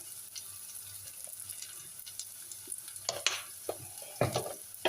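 Turmeric powder is stirred into chillies frying in a pan for a chilli and tamarind dish: a soft, steady sizzle with faint stirring, then louder scrapes and clatters of the spoon near the end, no voices.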